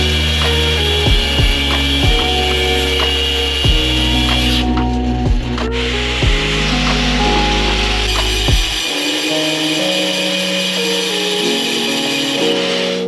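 Metal car tie rods being recut to shorten them for drift event prep, heard as a loud, steady grinding-saw drone with rhythmic repeated strokes, then a lower, harsher tone toward the end; no talk.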